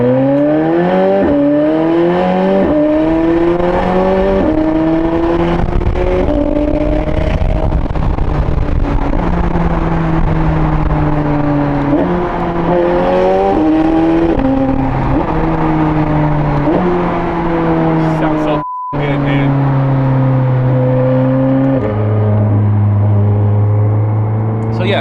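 A sports car driven on a morning commute, its engine loud and close as it accelerates through gear after gear in rising sweeps, with one abrupt brief cutout before the revs settle lower near the end.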